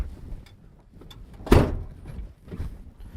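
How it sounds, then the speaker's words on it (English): A Komatsu HM300 haul truck's cab door shuts with a single solid thunk about halfway through, set against a low engine rumble inside the cab. "Close the door."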